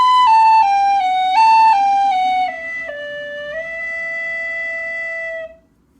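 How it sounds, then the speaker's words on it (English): A tin whistle plays a short phrase of the slip jig Kid on the Mountain, then drops to a low D and slides up onto a sustained low E that rings alone before fading. "What I do is I just slide off the D once I play it and end on the low E"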